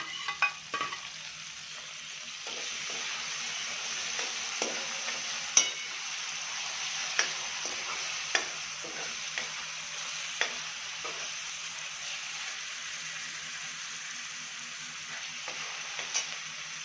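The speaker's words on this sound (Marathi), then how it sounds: "कांदा थोडा असं परतला गेलाय त्याच्यामध्ये आपल्याला टोमॅटो टाकायचं आणि ही अद्रक लसूणची पेस्ट टाकायची।" Onion, tomato and ginger-garlic paste sautéing in a pan for dry chicken, a soft continuous sizzle broken by scattered sharp taps and clinks of a spatula against the pan, with no one speaking.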